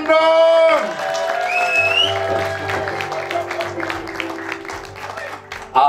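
Audience applause at a Christmas church service for a drama performance, a steady clatter of clapping that starts after a held musical note and carries on under sustained organ or keyboard tones and scattered voices.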